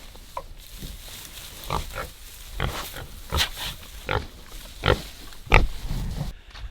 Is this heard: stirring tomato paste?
no